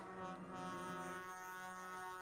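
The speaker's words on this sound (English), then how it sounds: "I just realized all the trucks, all their horns are tuned to F." Truck horns at a 2022 Canadian trucker convoy protest blare in a sustained, steady, tonal honk tuned to F, held continuously throughout at moderate distance.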